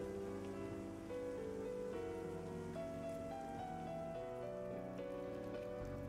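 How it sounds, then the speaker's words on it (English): Rain falls in the video game Pantheon, a quiet, steady patter running beneath sustained background music, with no one speaking. "The rain cleared up."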